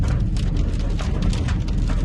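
Steady rain pours down outdoors on farmland, a dense continuous hiss of drops hitting surfaces, loud and close, with no talk over it.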